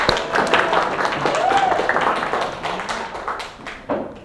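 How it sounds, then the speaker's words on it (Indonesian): A classroom audience claps for a project presentation, a loose, uneven patter of hands that thins out toward the end, with voices talking over it. "Silahkan tepuk tangan untuk visual 1"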